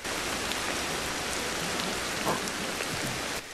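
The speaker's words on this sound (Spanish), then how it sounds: "se ve súper guapísima la lluvia." Steady rain falling in the video game Ancestors: The Humankind Odyssey, a dense, even hiss of drops throughout, moderately soft, with no voices.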